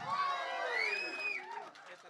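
A crowd at a Telugu movie teaser launch event cheers with high shouts and whoops, loud at first and then tapering off, with voices mixed in.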